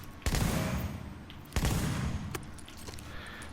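Double barrel shotgun fired in a shooter video game, two loud close blasts about a second apart, each followed by a rumbling tail and faint clicks.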